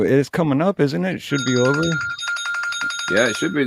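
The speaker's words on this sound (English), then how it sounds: "That was my phone." A mobile phone ringtone chiming during a live podcast, a steady repeating tone heard under close conversation as people keep talking.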